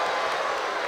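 Capacity crowd at a WCW Saturday Night professional wrestling arena show in 1996, roaring and applauding in a dense, steady wash of noise throughout.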